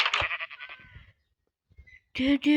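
Two short electronic sheep bleats from Minecraft, one at the start and one at the end, with a quiet gap between them.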